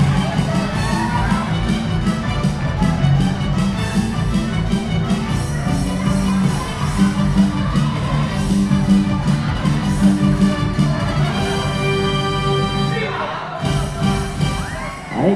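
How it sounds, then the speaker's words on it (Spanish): A crowd of wedding guests cheers and claps for the winner of a bride's game at a wedding in Yurécuaro, Michoacán, Mexico, a loud, steady roar over background music that dips briefly near the end. "Ahí quedan fuertes los aplausos para la ganadora."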